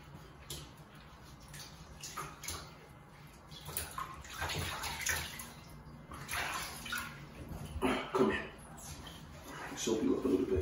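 A dog is washed in a bathtub, with water splashing and sloshing continuously close by while a person talks over it.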